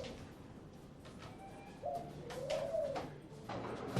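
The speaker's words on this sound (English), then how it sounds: "the magician's doves prepare themselves for their next disappearance" A magician's doves coo softly in a theatre prop store aboard the cruise ship Oriana, a few low throaty calls rising out of quiet room tone in the second half.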